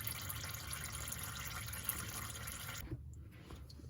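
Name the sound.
transmission fluid draining out of a Lexus IS 350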